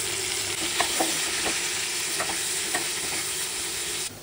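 Chopped onion and tomato with salt and turmeric powder sauté in a pan with a loud, even sizzle, and faint spatula scrapes recur every half second or so.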